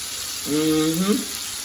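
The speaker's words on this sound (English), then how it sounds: "so the pot is sizzle right now" A steady sizzling hiss from a hot pot of Jamaican stew chicken, with a brief voice murmuring over it.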